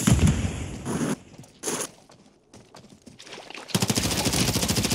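Rapid automatic gunfire in a video game as a magazine is emptied, loud bursts at the start and again in a sustained volley near the end, with quieter scattered shots between.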